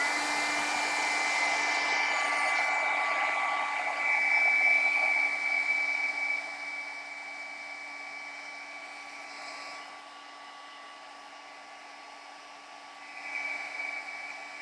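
A hair dryer blows steadily and loudly over a paint-splattered craft banner, a continuous whirring hum that eases slightly quieter partway through, then rises briefly near the end.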